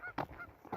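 Canada geese honk at a morning wild campsite, with several short, nasal calls in quick succession close by, the loudest burst coming near the start.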